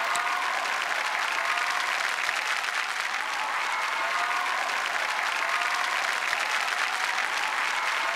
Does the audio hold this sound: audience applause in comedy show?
yes